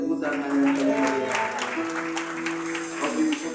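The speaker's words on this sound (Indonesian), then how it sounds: "Mari kasih tepuk tangan yang terbaik" A church congregation at a Sunday service claps in a steady patter of applause, with sustained music tones running underneath, across a few seconds.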